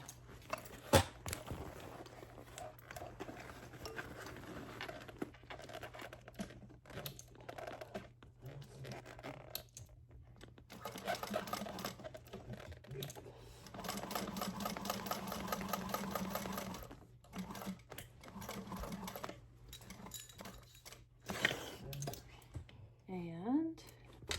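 A sewing machine stitches the final seam of a cork appliqué bag in intermittent bursts, with quiet pauses and handling noises between runs, fairly faint overall.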